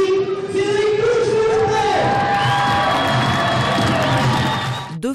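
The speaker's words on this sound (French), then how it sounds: "un tonnerre d'applaudissements à tous debout" A standing crowd cheers and applauds at a WBC boxing event in honour of French boxer Cédric Touche, a loud, dense roar with whoops and shouts sustained throughout, a voice rising above it near the start.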